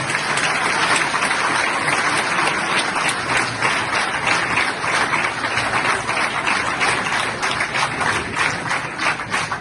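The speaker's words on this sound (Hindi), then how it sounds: "पाकिस्तानियों के लिए हम सबको ताली बजानी चाहिए।" An audience breaks into continuous, dense applause, loud and even throughout, with many hands clapping together and no talk on top.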